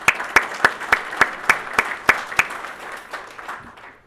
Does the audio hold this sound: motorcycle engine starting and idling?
no